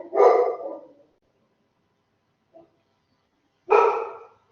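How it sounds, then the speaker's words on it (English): Two loud, close dog barks separated by a few seconds of silence, with a small faint yelp in between. "dogs."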